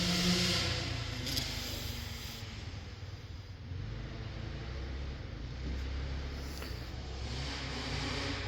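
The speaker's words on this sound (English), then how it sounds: "Oh, multiple engines. It was a dirt bike crew." Distant dirt bike engines droning and revving steadily under a hiss of wind, a low continuous rumble from several motorbikes somewhere off in the distance outdoors.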